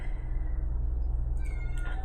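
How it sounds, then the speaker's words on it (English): A cat meows faintly in the background near the end, over a steady low humming room noise with no talk. "I'm sorry you guys have to hear my cat choir in the background."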